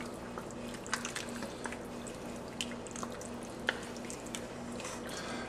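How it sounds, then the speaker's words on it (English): Shrimp creole gets a quiet stir in a pot, with soft wet squishes and small clinks of the spoon at irregular moments. "We're gonna give this a stir."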